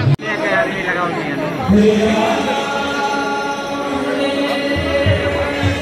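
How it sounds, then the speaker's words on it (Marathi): Crowd chatter fills a busy ISKCON temple, a dense murmur of many voices with a nearby voice speaking over it and a sharp knock at the start. "गर्दी आता लय भरपूर आहे मंदिरात"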